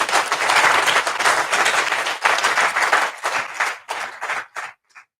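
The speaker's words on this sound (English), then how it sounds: "Everybody here, give yourselves a huge round of applause." Large audience at a mastermind event in Orlando, Florida, giving a loud, dense round of applause that tapers into scattered final claps and fades to silence.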